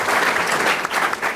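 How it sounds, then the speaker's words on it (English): A room full of people at a Chicago city finances panel claps in a short, dense round of applause, loud and close with no voices on top. "round of applause for Matt, especially because he had some good news."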